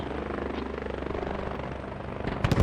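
A military helicopter in a video game flies at night while anti-aircraft fire targets it, its rotor a steady loud chopping throb, with sharp impacts rising near the end.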